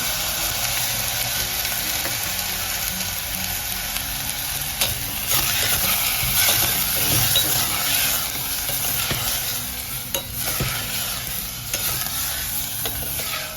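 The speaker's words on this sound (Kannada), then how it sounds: "ಈಗ ನೋಡಿ, ಇದಕ್ಕೆ ಮೊಸರು ಹಾಕ್ಕೊಳ್ತಾ ಇದ್ದೀನಿ." Mixed vegetables sizzle in a pan after a few spoonfuls of yogurt go in for a vegetable ghee biryani, a dense continuous frying hiss with occasional stirring clicks and pops, close and steady.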